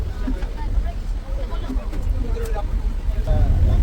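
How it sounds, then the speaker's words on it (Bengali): A passenger launch pulls away on a Sundarbans river, its engine a low rumbling chug under wind buffeting the microphone, with a voice speaking over it throughout. "এইদিকে লঞ্চ চলতে শুরু করেছে"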